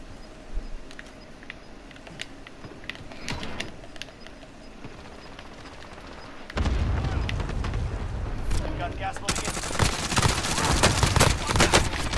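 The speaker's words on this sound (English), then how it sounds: "Whoa, I'm being shot." Gunfire in the video game Warzone, scattered sharp shots at first, then a louder sustained burst of rapid fire and booming impacts building toward the end, close and intense.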